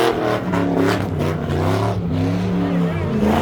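Car engine revving and a car sliding around a corner at a crowded car meet, steady loud mechanical drone with shifting engine pitch throughout, voices talking over it.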